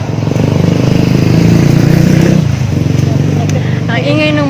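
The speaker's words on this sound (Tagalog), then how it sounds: "Ang ingay ng motor." Motorcycle engine droning loudly and steadily close by, with a voice talking over the running motor throughout.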